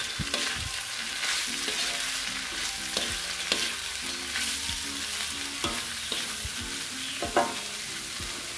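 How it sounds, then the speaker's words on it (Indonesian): Grated carrot fries in a pan while a utensil stirs and scrapes it, making a steady sizzle with repeated clinks and scrapes. "Masukkan wortel yang telah diparut. Aduk."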